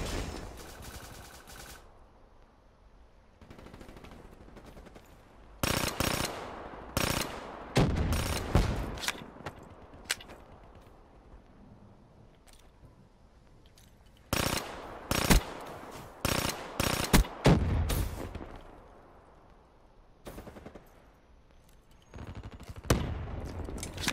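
Gunshots in a video game: several loud bursts of rapid automatic fire arrive in clusters separated by quieter stretches, close and punchy, with little talking under them.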